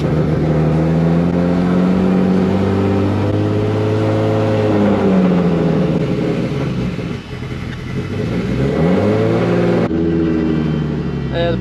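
A Nissan 300ZX Turbo Z engine idles loud and close with a steady low rumble, revving up and settling, while someone talks over it.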